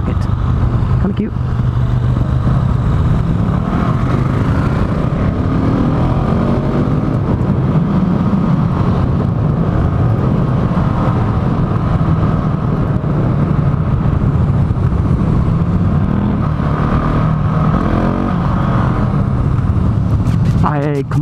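A 2018 Husqvarna 701 Supermoto motorcycle engine drones loudly and steadily while riding, a continuous rumble with wind noise, and someone talks over it throughout.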